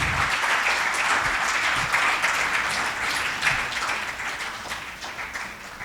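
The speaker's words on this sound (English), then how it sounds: "Can we have a very large round of applause for them," An audience at an education conclave in Bengal gives steady, sustained applause, a dense even wash of clapping that fades slightly toward the end, with no talking over it.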